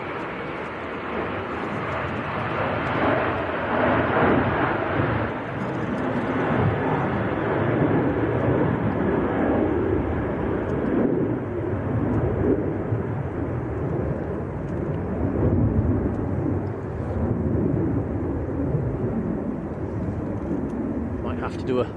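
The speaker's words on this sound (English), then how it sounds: "Ryanair just lifting off now" A Ryanair airliner takes off at Manchester Airport on a windy day, its engines a loud, steady broadband roar that holds for the whole stretch, with a voice talking over it.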